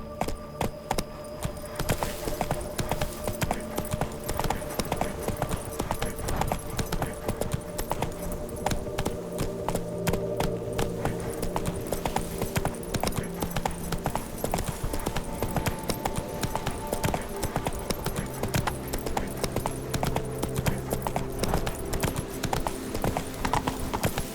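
In the video game The Witcher 3, the horse Roach gallops with a rapid, steady clip-clop of hooves over a continuous musical score. The hoofbeats stay close and even, with an occasional whinny.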